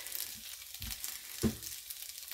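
Potatoes sizzle steadily in a frying pan seasoned with smoked paprika, a close, constant crackling hiss broken by a few soft thumps of stirring.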